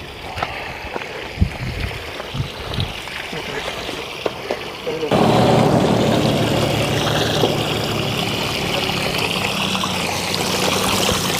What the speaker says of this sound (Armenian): այստեղ աղբյուր կա,